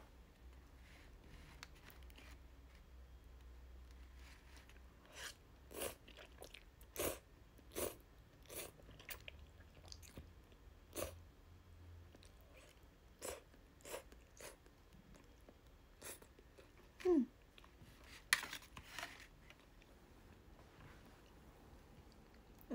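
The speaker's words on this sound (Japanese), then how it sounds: "ちゃんぽん食べるね。" Chanpon noodles being eaten, with soft chewing and slurping and scattered sharp bites and crunches in a quiet room, no talking.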